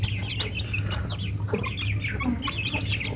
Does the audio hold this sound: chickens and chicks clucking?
yes